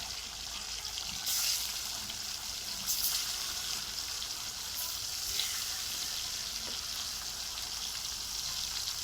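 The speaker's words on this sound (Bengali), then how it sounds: "তো আমি এক এক করে এগুলো সব ভেজে নেব।" Fish pieces frying in oil, a continuous close sizzle and crackle with a few brief louder spits, no talking over it.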